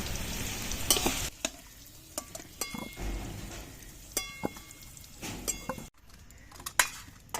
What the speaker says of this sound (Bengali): আলুগুলো ভাজা হয়ে গেছে এবার তুলে নেব